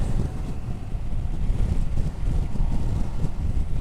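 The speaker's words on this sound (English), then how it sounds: "it's getting windy" Wind blowing hard across a hilltop car park, a loud continuous low rumble buffeting the microphone with gusts rising and falling throughout.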